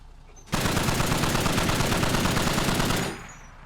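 A DShK heavy machine gun in the Squad video game fires one sustained burst of about two and a half seconds, a loud rapid stream of shots that stops abruptly.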